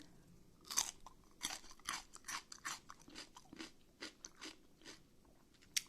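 Crunchy honey-fermented pickled cucumbers are bitten and chewed close to the mic, a quiet sequence of about a dozen sharp, wet crunches in an irregular rhythm against a near-silent background.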